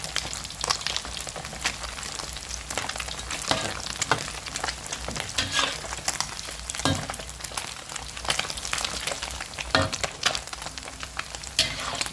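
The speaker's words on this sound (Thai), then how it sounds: "อันนี้ผมจะคนไปเรื่อยๆนะครับ ถ้าอยากเราอยากให้มันกรอบ" Fish deep-frying in hot oil crackles and sizzles steadily, close and fairly loud, with occasional scraping and splashing from stirring, and no talking.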